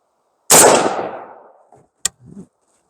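One sharp, loud rifle shot fired from a shooting table cracks out and rings away over about a second, followed by a short metallic click and a faint rustle.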